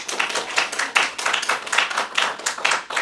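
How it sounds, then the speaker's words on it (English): A lecture audience applauds a speaker on medieval relic enshrinement with a dense, sustained wash of many hands clapping, steady and moderately loud, with no one talking. "So please, everyone, give a large round of applause to Dr. Gerace."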